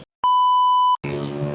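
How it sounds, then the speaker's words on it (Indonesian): Notification beep from a TVS iQube S electric scooter: one steady, loud electronic tone lasting under a second, then engine-free ambient noise and background sound after it. "Di sini ada notifikasi"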